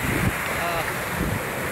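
Strong wind rushes over the microphone along with the churn of big sea waves at dusk, a constant loud roar with a couple of deeper surges, and no talking.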